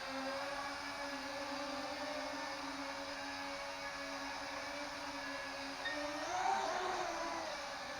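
A Syma X3 quadcopter drone whines steadily with a sustained buzzing rotor tone, then surges and shifts pitch briefly as it flips into a forward roll in low light, fairly close and alone without voices.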